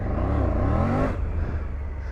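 A 2024 Triumph Tiger 900 Rally Pro motorcycle engine revs up sharply, pitch climbing fast, then drops off into a steady rumbling idle.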